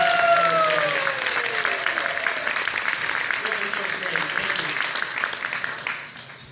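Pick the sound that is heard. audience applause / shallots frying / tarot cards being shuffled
audience applause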